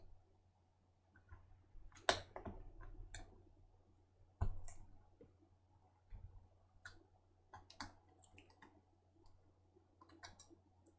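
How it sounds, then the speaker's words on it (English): A prying tool works a double-sided taped webcam out of a Lenovo IdeaPad 100 laptop, giving scattered faint clicks and small snaps of plastic at irregular intervals in a quiet room. "I'll just get my prying tool under that and just pry that out carefully"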